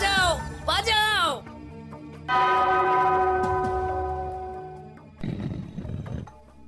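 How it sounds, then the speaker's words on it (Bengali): A bell rings in a Gopal Bhar cartoon, sustained metallic tones holding and slowly fading after loud cartoon voices, with more cartoon sound following near the end. "ওই ঘন্টাটা বাজাও, বাজাও।"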